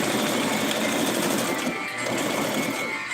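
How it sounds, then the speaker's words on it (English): A sewing machine stitches a doll outfit with a steady, fast mechanical whir that runs loud and continuous throughout, no voices over it. "So we're gonna sew here."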